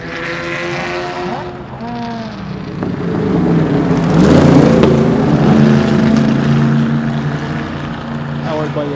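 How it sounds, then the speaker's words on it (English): A Shelby Cobra with a 289 cubic inch Ford V8 runs at a historic racing festival at Lime Rock, its steady engine drone rising in pitch and loudness midway as it passes close, with a voice talking over it. "Powered by a 289 cubic inch Ford V8 engine."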